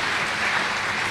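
Studio audience applause on a Malay celebrity talk show: a steady, dense wash of clapping that holds at an even level for the whole moment, with no voices over it.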